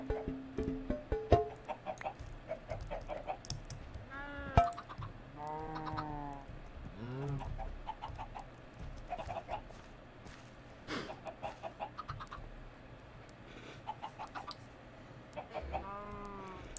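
Chickens in the Minecraft Forgecraft modpack cluck and chatter in short, repeated bursts, several birds overlapping at moderate distance, quiet but continuous throughout with occasional sharper clicks.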